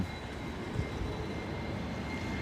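Airliner passing at London Heathrow Airport during Storm Éowyn, a steady broad jet roar mixed with heavy wind, continuous and fairly close throughout.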